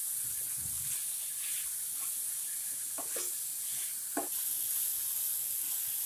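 Tomatoes sautéed and stirred in a pan for an oats masala dish, a faint, steady sizzle with a few soft stirring scrapes and taps.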